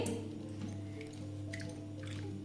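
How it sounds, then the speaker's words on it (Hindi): Indian gooseberries (amla) being washed in water give soft, faint drips and wet squishing splashes in a quiet kitchen, with no talking. "सबसे पहले गाइस, हम अच्छे से अपने आंवलों को धो लेंगे।"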